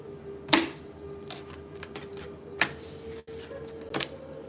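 Tarot cards slapping and riffling as several spill out of the deck, a few sharp bursts spaced apart over a faint steady hum, no talking.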